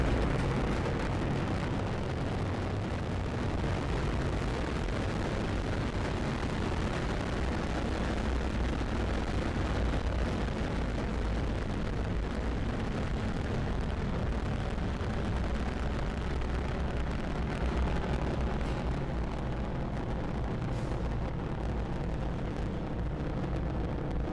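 A rocket climbs during launch ascent, its engines producing a sustained, distant, broadband rumbling roar with deep low-end thunder, steady and unbroken throughout.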